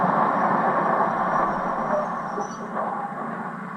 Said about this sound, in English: Just then, Mother's train came in.